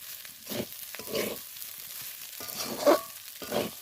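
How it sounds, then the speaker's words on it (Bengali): Flattened rice pulao is stirred and fried with ghee in a pan, heard as soft, quiet bursts of scraping and sizzling that come in a few separate strokes. "দিয়ে ভালো করে নেড়ে চেড়ে আমি এটা নামিয়ে নেব"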